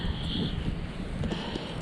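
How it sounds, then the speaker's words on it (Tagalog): Strong, very cold wind in Canada buffets the microphone in a constant low roar and rush, with a faint whistling tone above it, no talking. "Lakas ng hangin."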